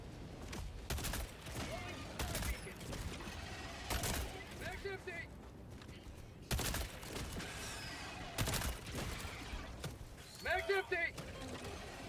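Crossbow shots and reload mechanics in the video game Helldivers 2 come as sharp, sudden bursts spaced a second or two apart, joined by clicking and ratcheting mechanical sounds and other battle noise in the background.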